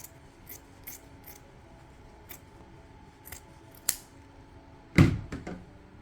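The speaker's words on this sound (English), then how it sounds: "Now we can cut the extra fabric from here." Scissors cut away extra fabric on a two-tone flare skirt with a few crisp, close snips scattered across the moment, ending in a louder double snip, in a quiet room.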